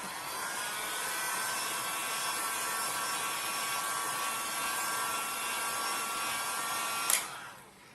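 Hot hair dryer blowing steadily over wet paint on a stencil in a mixed-media art session, a loud continuous whine with tonal hum that cuts off abruptly near the end.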